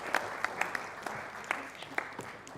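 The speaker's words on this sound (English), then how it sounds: "please can we give a round of applause" At a motivational talk, an audience gives a fairly quiet round of applause, scattered individual claps standing out over a soft, steady patter of hands throughout.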